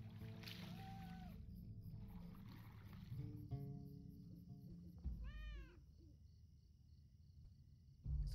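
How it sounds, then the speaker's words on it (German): A cat in the video game The Lord of the Rings Online meows once partway through, faint against a steady hum and soft sustained ambient tones. "Aber die Katze jammert immer noch."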